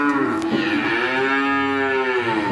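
A seven-month-old calf at a cattle farm in Vinh Long moos once, a loud, close, drawn-out low call lasting over two seconds, with no talk.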